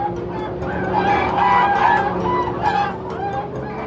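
Chickens cluck and call steadily, with a few drawn-out, crow-like notes rising over a busy, close-up farmyard clamor.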